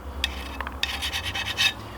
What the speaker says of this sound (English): now we gotta start getting all the RTV off of the differential cover here